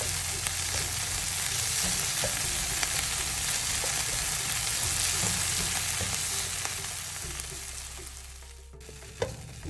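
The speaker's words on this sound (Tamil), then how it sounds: "தக்காளி நல்லா வதங்கட்டும், குழஞ்சி வதங்கட்டும்." Tomatoes sautéing in a pan for a Tirupati-style coconut chutney sizzle steadily up close, with occasional stirring clicks, easing toward the end before a final spoon knock.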